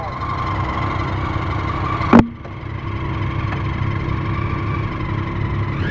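Triumph Daytona 675R sport motorcycle engine idling steadily up close with a light mechanical ticking, broken by one brief sharp knock partway through.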